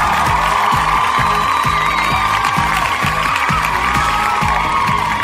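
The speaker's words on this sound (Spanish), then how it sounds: "el aplauso para Javier Taipe Belito." Live audience at a Peruvian music anniversary concert applauding and cheering for a guitarist, loud crowd clapping and whoops over a rhythmic band groove that keeps pulsing underneath throughout.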